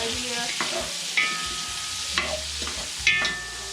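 Sausage fries in a pot for turkey gumbo, its fat rendering out in a steady, close crackling sizzle, with a few sharp scrapes of a utensil stirring against the metal scattered through.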